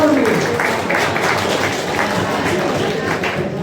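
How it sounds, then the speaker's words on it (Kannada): Audience applause at the inauguration of a Kannada folk council taluk branch event in Shirahatti, a steady dense wash of clapping across the whole stretch with no clear pauses. "ನಿಮ್ಗೊಂದು ಚಪ್ಪಾಳೆ ಇರಲಿ"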